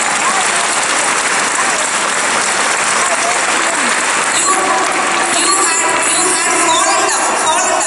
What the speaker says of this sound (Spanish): Alaben al Señor y le aplaudan.